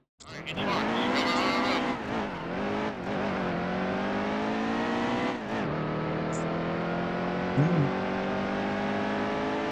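Stock-car engines from the NASCAR Heat 2 video game roar steadily at Bristol, a loud sustained drone with shifting pitch as cars rev and pass, plus a brief tire squeal near the end.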